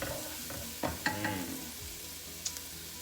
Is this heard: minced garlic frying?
yes